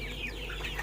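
Native village chickens in a small two-level home coop cluck faintly and continuously, soft overlapping calls over a steady low background hum.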